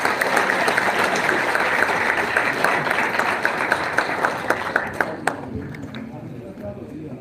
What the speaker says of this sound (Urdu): تالیاں ہونی چاہیے بہت ساری۔